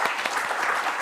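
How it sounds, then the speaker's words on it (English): A closing round of applause from a seated conference audience, a brief, steady wash of many hands clapping. "So one last round of applause for them."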